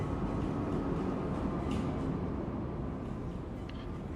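A train rumbles steadily with a dense low roar and a constant wash of noise, with no clear breaks or distinct events.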